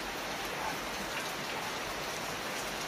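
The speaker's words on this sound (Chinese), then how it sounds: "真的真的下这么大雨跑了走" Heavy rain pours down steadily in the mountains during a sudden rainstorm, a dense, even hiss of falling water close around with no one speaking.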